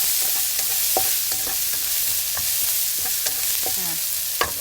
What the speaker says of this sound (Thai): ก็คั่วให้พริกพอหอม ๆนะคะ